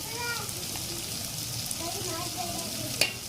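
Tomato, onion and potato fry in oil in a pan, giving a continuous moderate sizzle, with a voice heard faintly over it and a short clink near the end.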